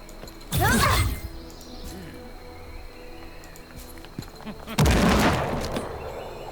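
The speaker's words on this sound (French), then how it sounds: "Cette bombe explose au quart de tour" Two heavy blasts from a bomb exploding in the video game Lost Ark, a loud burst near the start and another about four seconds later, each decaying into a rumbling tail over a low background.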